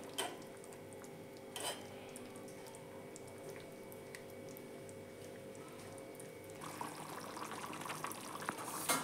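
Egg curry simmers in a pan with a faint, steady bubbling hiss, and a few light clicks or taps come through partway.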